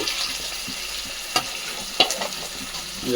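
Tomatoes, beans and carrots fry in a pan for fried rice, giving a steady close sizzle with a few sharp stirring clicks and scrapes and no talk.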